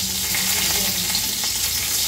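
Finely chopped garlic cloves fry in hot oil for a bhendi masala, giving a steady, loud, close sizzle that does not let up.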